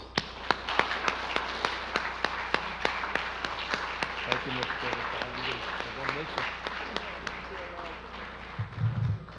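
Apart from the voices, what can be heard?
audience applause for a teacher at an awards ceremony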